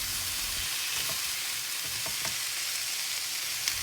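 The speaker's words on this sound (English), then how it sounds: "I'm cooking this on high heat the entire time, so watch them and don't let them burn or get overcooked" Vegetables and udon noodles stir-fry over high heat in a pan as vegetarian yaki udon, giving a steady, even sizzle with a few light stirring taps.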